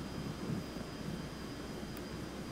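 Airplane jet engine in a flight simulator game as the plane dives, a faint steady broadband roar with no speech.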